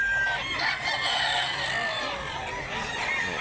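A Muff Gray gamefowl rooster at a Cebu poultry market crows loudly amid a busy chorus of other roosters and clucking fowl, the calls overlapping continuously throughout.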